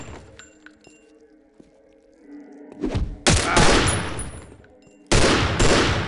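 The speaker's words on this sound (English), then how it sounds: "This 9mm I got fires two shots at a time for some reason." Two loud bursts of 9mm pistol gunfire from the video game Postal ring out with a sharp, ringing decay, each burst holding two shots in quick succession, after a stretch of quiet ambient game sound.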